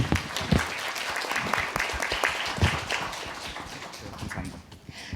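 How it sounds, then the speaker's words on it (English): Conference audience applauding the interpreters, a dense patter of many hands clapping steadily at moderate distance, tapering slightly toward the end. "would you please join me with a nice round of applause for our exceptional interpreters up there"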